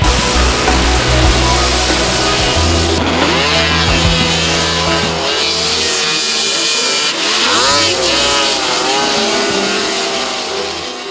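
A white 1620 snowmobile fitted with a boondocker kit, modified for mountain racing, screams at high revs, the engine pitch climbing and shifting in repeated sweeps as it accelerates, loud and close throughout with crowd noise behind.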